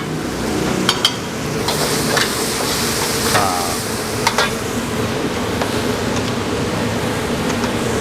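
Close, continuous sizzling of shrimp stir-frying in a pan, with occasional metallic scrapes and clinks as it is tossed and stirred.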